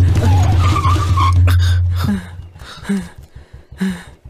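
A car skids to a sudden stop with a loud screech of tires, the squeal cutting off after about two seconds and followed by short bursts of shouting and scuffling.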